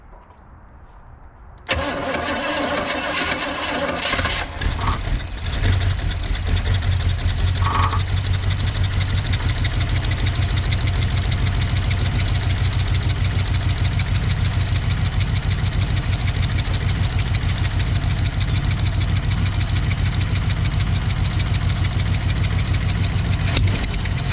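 A Chevy C10 pickup engine with an exhaust leak cranks and catches after a brief quiet start, then settles into a loud, steady idle with a rough, slightly knocking rumble throughout.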